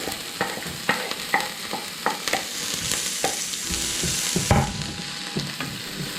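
Onions dropped into hot oil in a home kitchen in Cyprus, sizzling loudly up close while a utensil stirs them with quick repeated clicks and scrapes over a continuous frying hiss.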